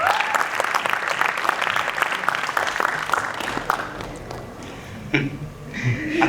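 Loud, dense applause from a live audience at a comedic roast event, sustained clapping with crowd noise that tapers off toward the end.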